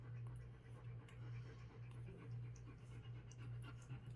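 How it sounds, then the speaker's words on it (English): Puppies pant rapidly and steadily close by, a continuous breathy rhythm over a low hum, with no voices. "You can hear my puppies in the background."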